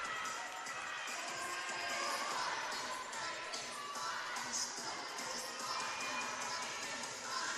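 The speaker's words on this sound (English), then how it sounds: "It's cool to see Kutztown cheering on GCU as they compete here at the team event" Crowd cheering and shouting fills a college acrobatics and tumbling team meet, a steady loud wash of voices from the stands with no breaks throughout.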